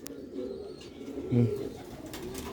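A single soft, low coo from an old-breed Sialkoti pigeon in a cage rises briefly out of a steady background hum and rustle.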